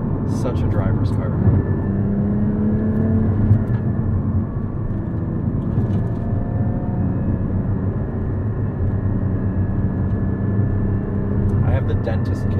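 Cabin sound of a 2016 Porsche Cayman GT4 driven on an open road, a steady loud engine drone and road roar throughout with faint tonal whine, people talking over it at times.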